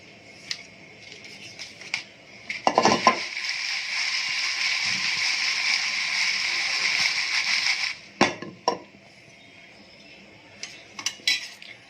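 Dried red chillies and sesame seeds are dry-roasted in a pan for idli podi, giving a steady, bright sizzling rustle with a few sharp scrapes of a utensil at the start and end.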